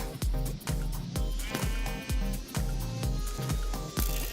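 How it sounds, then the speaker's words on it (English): Sheep bleats from the Minecraft video game over a steady rhythmic backing of music with repeated thumping beats; the animal calls sit fairly faint within the busy mix. "I hear sheep."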